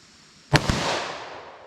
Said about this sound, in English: So let's pull out my carry gun, see what I can do.